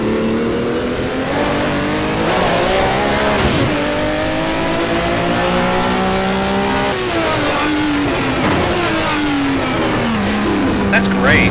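BMW M1 race car in the rFactor racing game, its engine revving loudly and continuously with rising and falling pitch through gear changes and brief tire squeals, with talking over it.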